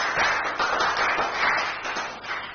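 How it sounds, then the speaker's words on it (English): Crowd applause for a guest being honoured at an outdoor groundbreaking ceremony in Nigeria, a steady dense wash of clapping that holds for the whole moment and tapers slightly at the end. "Let's give her a round of applause, please."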